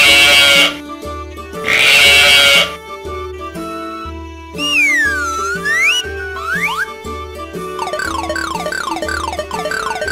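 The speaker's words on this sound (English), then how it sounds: "Sheep." Sheep bleating in a children's animal-sounds video, two loud wavering bleats near the start followed by other animal-like calls and musical tones.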